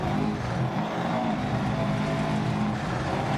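A rally car engine drones at steady throttle on a Finland stage in Dirt Rally 2.0, a loud, continuous mechanical roar holding an even pitch for a few seconds with no voices.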